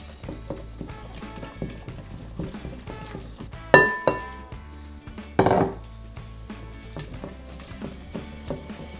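Utensil stirring Alabama white sauce with salt, black pepper and sugar in a bowl, close by: a run of light clinks and scrapes, with two louder knocks against the bowl partway through.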